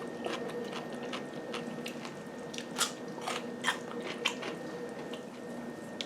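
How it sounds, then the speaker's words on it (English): Crisp, crackling crunches from biting into a deli-style kosher dill pickle, a few sharp bites and chews close to the mic over a steady background hum. "gotta eat one of these dill pickles. One of these kosher dills from Aldi's."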